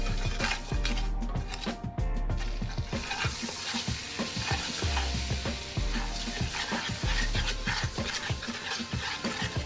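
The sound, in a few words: butter and cumin sizzling while being stirred in pan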